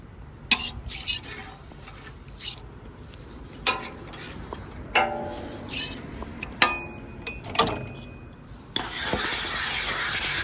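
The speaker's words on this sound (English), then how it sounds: "More scrubbing." A flat top plancha griddle is scrubbed clean, with scattered scraping strokes and metallic clinks over a quiet background, ending in a steadier rough scrubbing rasp.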